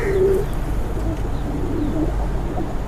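A Heno pigeon coos close by in a few low, soft throaty notes, with a steady low rumble of background noise underneath.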